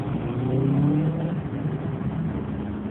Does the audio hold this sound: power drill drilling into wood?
no